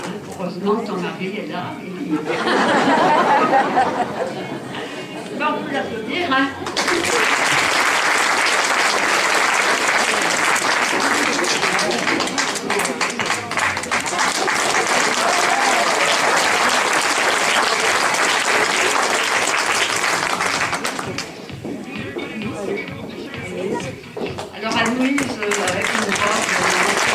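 An audience claps in a long, steady round of applause that swells after a spoken introduction and then fades back to a voice talking.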